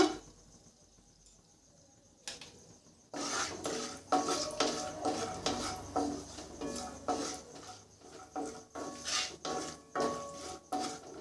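Cinnamon, cloves and cardamom are tempered in a pan for Bengali basanti pulao, giving a quiet start then a steady crackle of whole spices in hot oil with repeated metal scraping and clinking of a spatula against the pan.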